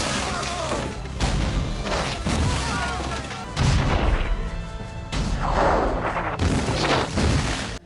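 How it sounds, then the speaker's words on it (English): Battle explosions from the 1992 film The Last of the Mohicans: loud, booming blasts and crashing impacts arrive in heavy bursts, separated by short breaks. "The explosions and everything in this look real."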